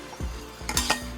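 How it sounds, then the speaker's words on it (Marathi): Boiled corn kernels tossed and stirred in a pan, with a soft sizzle and a few scraping, clinking strokes of a spatula against the metal, close by and alone. "उकडलेले मक्याचे दाणे, तर परतून घ्यायचं"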